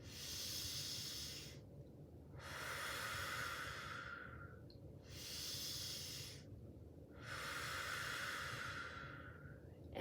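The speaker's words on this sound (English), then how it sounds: "Inhale, breathing in through the nose, fill it all up. Exhale, let it go." Slow, deliberate breaths drawn in and let out through the nose during a guided breathing exercise, four long airy hisses alternating in a steady rhythm, close and soft with no talking.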